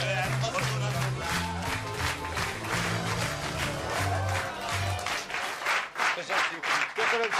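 Sustained audience applause at a Hungarian cabaret show, dense steady clapping from a crowd, loud throughout, with music fading under it during the first part.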